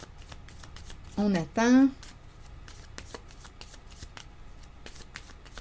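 Tarot cards are shuffled throughout, making a steady papery riffle of soft clicks and flutters, with a brief spoken phrase breaking in partway through.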